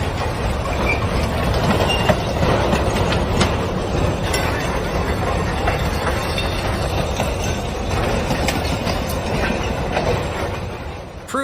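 A derailed train in Malchisa rumbles loudly and steadily off the rails, a dense low roar with scattered metallic clanks and rattles and no voices.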